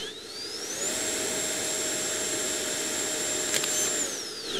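An FMS 80mm electric ducted fan on an RC jet spins up to full power, a shrill rising whine that holds at a loud steady pitch for about three seconds, then winds down.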